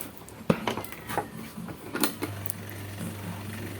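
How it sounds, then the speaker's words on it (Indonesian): A repaired Maspion 12-inch electric fan is switched on: a few sharp clicks and knocks, then a steady low motor hum sets in and keeps running at moderate level. "langsung aja kita coba nyalakan kipas angin Mas Pionnya"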